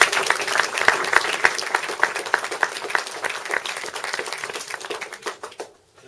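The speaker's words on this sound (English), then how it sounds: "I think we owe him a round of applause" A crowd at a canal marker dedication gives a round of applause, with close, sharp individual claps standing out over the steady clapping before it fades out abruptly near the end.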